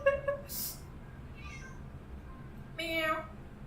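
A cat in a kitchen gives two distinct, faint meows separated by a pause, with soft indoor background and a person's voice nearby.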